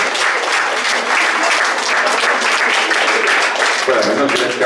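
Applause at a club in Paris for 100-year-old Geneviève, dense clapping from a roomful of people, loud and close, with voices mixing in toward the end.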